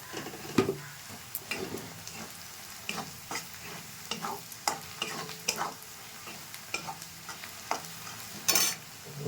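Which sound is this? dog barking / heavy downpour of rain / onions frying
onions frying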